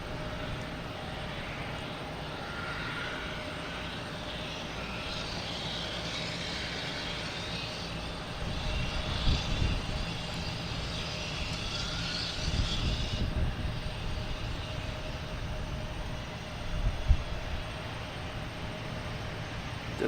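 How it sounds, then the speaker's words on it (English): Airbus A220 jet on flight 760 from DFW at Boston Logan, a steady distant engine roar under broadband wind-like noise, swelling slightly louder toward the middle and end with no talking. "All right, we have an A220. Flight 760 coming from DFW."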